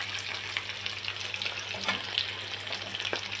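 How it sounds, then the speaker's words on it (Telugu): Spices frying in oil for chicken pickle, with a continuous close hiss and sizzle, plus occasional faint stirring scrapes over a low steady hum. "ఇది బాగా ఫ్రై చేయాలి"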